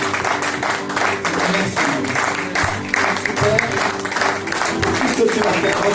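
A church congregation applauds loudly during a worship service, a sustained wash of many hands clapping close by, with voices and talk mixed in underneath.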